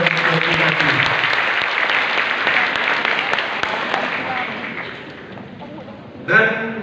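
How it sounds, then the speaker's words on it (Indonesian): Loud, dense applause from a large crowd of university scholarship students for the regent at a gathering in Jember, sustained and steady before tapering off, with a brief thump near the end. "Tepuk tangan buat Bupati."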